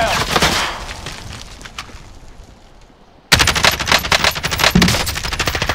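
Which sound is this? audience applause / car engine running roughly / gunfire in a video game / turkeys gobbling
gunfire in a video game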